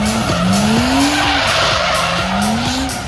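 A race car skids under hard braking into a hairpin corner, with two loud sweeping tire squeals over a continuous engine roar, close and intense.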